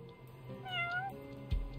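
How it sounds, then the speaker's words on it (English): A cat in the video game Judgment gives a single clear, fairly quiet meow over faint background game ambience, followed by a brief soft thump. "Also, I hear a cat."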